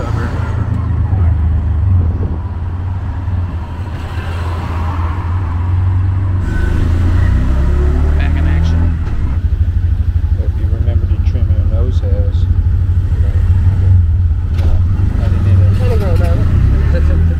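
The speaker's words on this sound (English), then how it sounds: "driving down the wrong side of a main road" Steady car engine and road rumble from a vehicle driving the wrong way down a main road in Cambodia, continuous and close, with people talking over it throughout.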